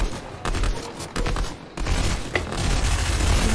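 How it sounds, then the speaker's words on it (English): Gunfire in the Fortnite video game, a burst of rapid shots with a few sharp cracks and booms, loud and close, with short gaps between volleys. "did you hear that gun sound?"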